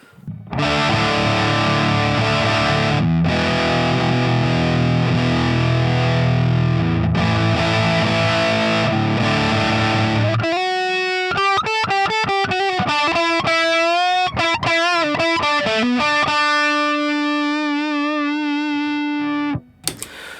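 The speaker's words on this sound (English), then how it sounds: "So I'll switch on the Big Muff in my preferred setting." A thick, heavily fuzzed electric guitar through an Electro-Harmonix Green Russian Big Muff pedal chugs loud, sustained chords, then shifts into a rapid run of distorted single notes ending on a held buzzing note.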